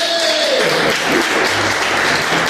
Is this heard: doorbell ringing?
no